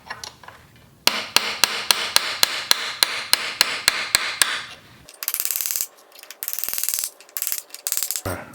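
Hammer tapping a ridged nut loose on a Honda Grom front end, a regular series of sharp metallic clinks for about four seconds, followed by bursts of ratcheting and scraping metal.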